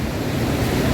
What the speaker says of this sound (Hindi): इसके ऊपर से अब और ये सरस्वती नदी है